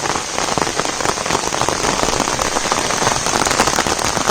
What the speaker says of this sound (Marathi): पाऊस चालूच झालाय.